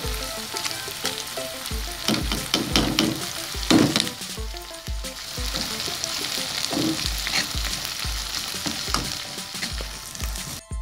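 Ginger and garlic fry in a Lahori chicken karahi. A constant loud sizzle is broken by repeated scraping and stirring strokes from a utensil, and no one speaks.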